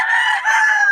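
A close, loud, sustained chicken call rings out at a market in Bocaue, steady and nasal for about a second, with no talking over it.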